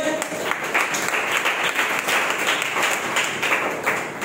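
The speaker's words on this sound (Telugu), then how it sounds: "చప్పట్లు కొట్టి మహిమపరచండి" A church congregation at a Sunday worship service claps rhythmically in unison, loud and steady for several seconds, with voices mixed in underneath.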